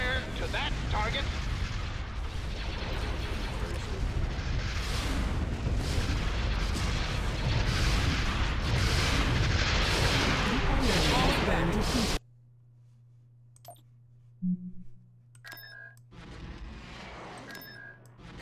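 Heavy sustained weapons fire and booming blasts as units attack a target in Star Wars: Empire at War, dense and loud for most of the stretch, then cutting to quiet with brief chimes and sparse effects.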